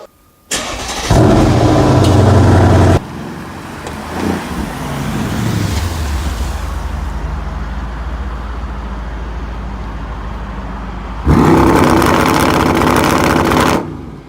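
A Mercedes-Benz CLS63 AMG engine in Need for Speed Undercover starts and roars loudly. It then settles to a lower, steady rumble with a falling tone and finishes with another loud full-throttle roar, heard alone.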